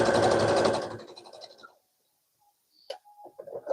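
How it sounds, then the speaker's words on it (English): A sewing machine stitches a throw pillow in a short, steady mechanical whir that winds down and stops, followed by a brief silence and a few soft handling sounds close by. "So I'm just going to go ahead and make sure I sew this all down."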